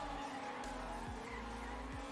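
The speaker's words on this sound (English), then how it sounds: "Getting a nice drift with a very low jump." A racing video game car drifts with a low hum of engine and tyre noise, while brief skid screeches rise and fall twice across a steady, loud bed.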